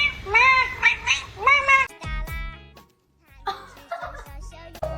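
A pet cat meows several times in quick, drawn-out calls, loud and close, followed by short bumps and a quieter stretch, then more sharp vocal sounds near the end.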